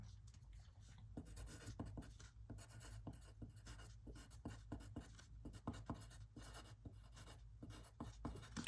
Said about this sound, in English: let's write out the equation over here